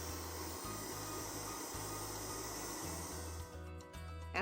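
Electric blender running continuously on soaked red lentils, a steady loud motor whir with slight pulsing load changes, easing off near the end.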